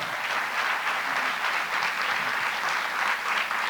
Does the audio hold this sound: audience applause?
yes